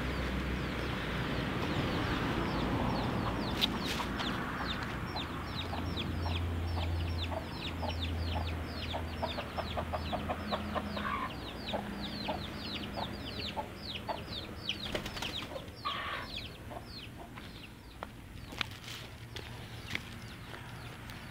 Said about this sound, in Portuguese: Levar umas galinhas aqui, ó.